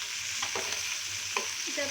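Tangra fish frying in a pan with a little oil while the pieces are turned: a continuous close sizzle broken by a few light clicks and scrapes as the fish is flipped, with no talk.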